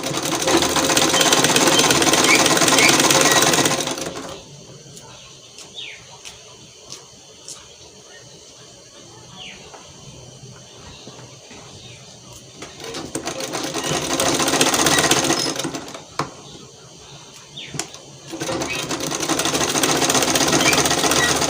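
A sewing machine stitches a ruffle sleeve, running loud and steady for about four seconds, dropping away through a quiet stretch with faint handling sounds, then running again in two more bursts.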